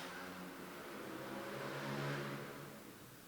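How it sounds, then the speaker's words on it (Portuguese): A motorcycle passes by outside, a steady mid-pitched engine drone that swells toward the middle and then eases off, with no talk over it. "Esperar a moto passar"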